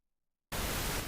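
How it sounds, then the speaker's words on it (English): Pink noise bursts in abruptly after a brief silence, a loud, steady broadband hiss with a deep, soft rumble underneath that holds evenly to the end. "Somebody said pink noise."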